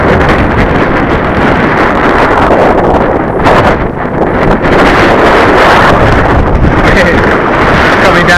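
Strong wind buffets an outdoor microphone while a radio control model aircraft is flown in gusty conditions, producing a loud, continuous roaring rumble that barely eases just before the four-second mark.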